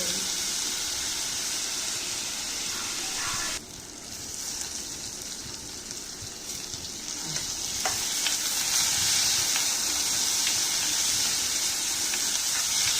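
Green chilies and tomato sauté in a pan for a sundakkai curry, hissing and sizzling loudly while being stirred, with a brief dip in the sizzle before it builds back up, and no voices.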